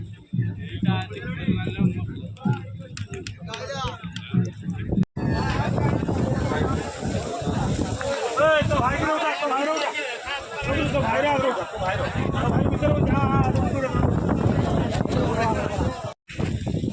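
Strong wind rises and roars across a hilltop shrine as rain arrives, a loud continuous rush of gusts filling most of the clip, with people talking over it throughout.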